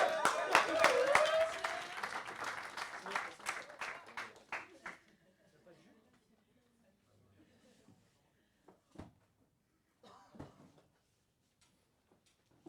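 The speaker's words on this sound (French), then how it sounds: "On peut applaudir Mathieu." An audience at a morning session applauds, a brief burst of close hand clapping with a few whoops that tapers off after about four seconds into near silence broken by scattered faint knocks.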